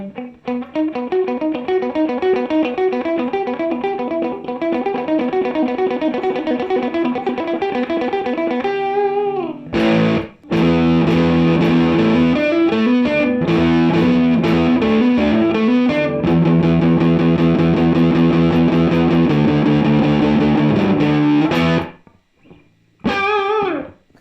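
Epiphone SG400 electric guitar through heavy distortion, a sustained chordal riff ringing steadily, then a brief gap before a louder, denser passage of crunchy overdriven chords that cuts off near the end, with no voices.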